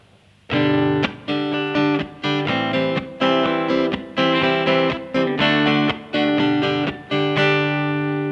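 Guitar chords strummed with the fingers in an even rhythm, the strokes slightly softer at the onset, after a brief quiet start.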